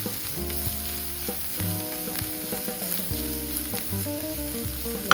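Spice powders sizzle and fry in a hot pan before beef is added, a steady close crackle with occasional scraping, and no talk.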